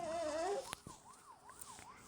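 An ambulance siren in the Rope Hero video game wails in a steady rising-and-falling pattern at moderate level, following a brief tonal game sound and sharp clicks at the start.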